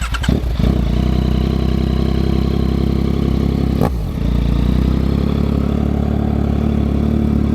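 A 2024 Yamaha MT-09 with a Yoshimura R11 exhaust idles loudly up close, a steady deep rumble with a sharp rev blip near the start and another near the middle, no voices.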